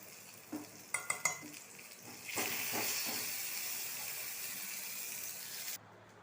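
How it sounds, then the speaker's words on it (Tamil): Oil sizzles steadily in a pan after a few sharp clinks of a spoon, tempering spices for a greens dish, a continuous crackling hiss that fills the clip and cuts off near the end. "நல்லா வதங்கட்டும் பாருங்கள் நல்லா வதங்கிடுச்சு"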